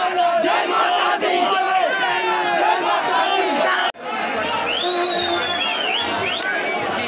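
A dense crowd at the Nanda Devi Dola procession on a main road raises loud chanted slogans and cries in waves, with chatter and babble mixing in and a brief cut midway.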